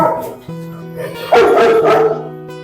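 A dog barks and yips a few times nearby, with steady tonal hum and music-like tones underneath.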